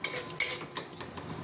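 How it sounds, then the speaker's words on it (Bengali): Masala paste for a fish and toruli fry is stirred and sautéed in a pan, heard as a few sharp metallic clinks and scrapes of a spoon against the pan in quick succession, close and fairly loud. "এবার ভালোভাবে মশলাটাকে কষে নেব"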